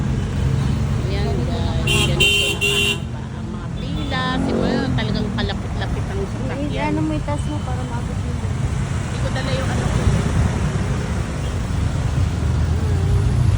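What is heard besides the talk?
heavy street traffic with car horns, Mabini Street, Manila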